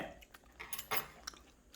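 Someone chews raw beef tartare (yukhoe) up close, a soft, wet, irregular chewing with a few brief clicks and light clinks, faint and intimate in a quiet room.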